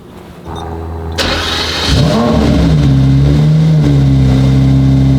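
A powerful hypercar engine cold-starts, cranking and firing up with a loud roar, then settles into a high, rumbling idle with slight shifts in pitch.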